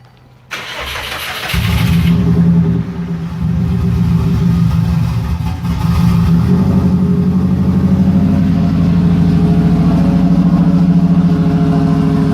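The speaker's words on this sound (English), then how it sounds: "this will be the first startup on the infernofab double crossover headers" An engine with Infernofab dual crossover headers cranks and fires up for the first time, then settles into a loud, rumbling, uneven idle with deep exhaust pulses close by, no talking.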